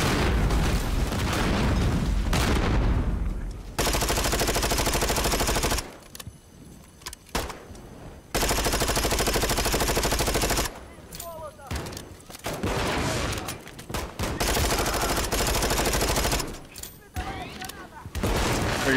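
Shotgun fire in the Modern Warfare 3 campaign, heard as long stretches of dense, loud gunfire and booms broken by short quieter gaps, with voices calling out between bursts.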